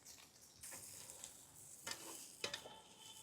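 Chopped garlic fries in a pan with cumin, mustard seeds, curry leaves and Kashmiri chilli: a faint, steady sizzle with a few brief stirring scrapes near the end, no voices.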